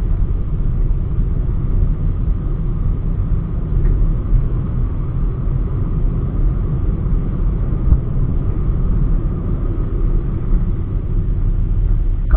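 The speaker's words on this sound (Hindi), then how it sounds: "इसमें इसको खींच के देखते हैं एंड देखते हैं कि क्या हाई स्पीड में हैंडलिंग कैसी है इस कार की" A Toyota Etios Liva drives at high speed, giving a steady, muffled in-cabin rumble of engine and road noise that stays even and continuous, without any voices.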